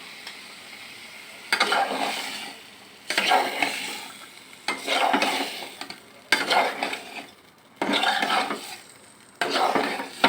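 Fried pointed gourd being stirred into a tomato curry in a pan: bursts of scraping, sizzling stirring come roughly every second or two, separated by quieter simmering gaps, close and fairly loud, without speech.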